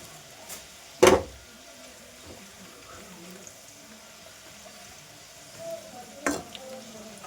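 Onions fry in a pan for a pork dish, a low, faint sizzle in the background punctuated by a couple of sharp utensil clanks against the pan.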